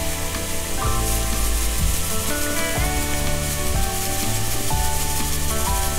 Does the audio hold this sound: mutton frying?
yes